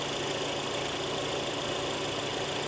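A Mercedes-Benz car engine runs steadily after a cranking test, a close, even idle hum with no talk over it.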